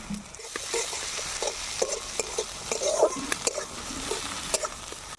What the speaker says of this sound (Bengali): এবার আমি পেঁয়াজগুলোকে তেলের মধ্যে দিয়ে ভালো করে নাড়াচাড়া করে নেব